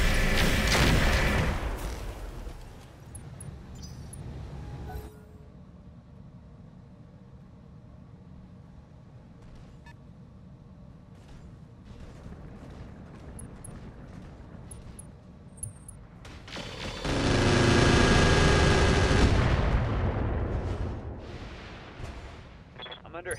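Heavy weapons fire in the Roguetech BattleTech mod, a loud explosive burst at the start, a long stretch of low mechanical rumble with faint clicks, then another powerful roaring barrage near the end.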